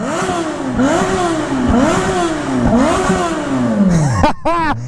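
A Yamaha XJ6 motorcycle engine revs loudly up close in repeated rising and falling sweeps, then gives a few sharp quick blips at the end.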